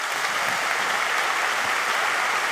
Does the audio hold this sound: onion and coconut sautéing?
no